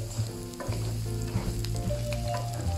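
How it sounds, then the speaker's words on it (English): Sliced onions sauteing in olive oil in a medium skillet for shakshuka, giving a steady close sizzle and crackle with occasional stirring scrapes and no talking. "begin by sauteing your onions until they're a little soft and transparent"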